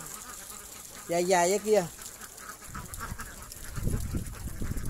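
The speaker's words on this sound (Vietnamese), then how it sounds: "Quá trời nhiều vịt." Ducks on a rural duck farm give a loud, close burst of nasal, honking quacks in two quick calls. A person speaks briefly, and softer background noise follows.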